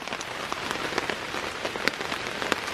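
Rain patters on a tarp at a wild bushcraft camp, a dense close drumming of drops with sharper individual taps scattered through a steady wash, no talking.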